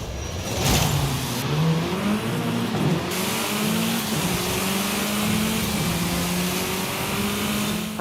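A car engine in Forza Horizon 5 on Xbox Series X revs hard and climbs through the gears, the pitch rising and dropping with each shift, loud and continuous for several seconds.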